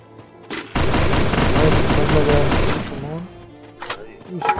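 Rapid automatic gunfire in an online shooter game, a loud dense burst of shots for about two seconds, followed by a few scattered single cracks and a voice speaking.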